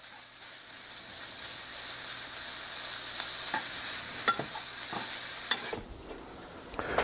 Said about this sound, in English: Now we're going to stir fry this for about 5 minutes